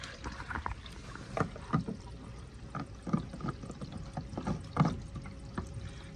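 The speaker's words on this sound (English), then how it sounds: "Once we get our cooler filled up, we dump this hose right in here" Water from a hose splashes and gurgles into a cooler being filled for an ice bath, in uneven close-up surges of pouring water without any talk.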